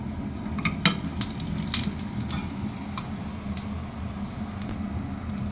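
Half a spoon of coriander seeds drops into hot oil for potato pickle, giving a faint steady sizzle with scattered sharp ticks and pops as a spoon clinks against the pan.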